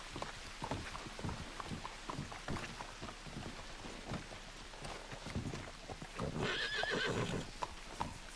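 A horse from a video game whinnies loudly over steady clip-clopping hooves, with rain pattering in the background.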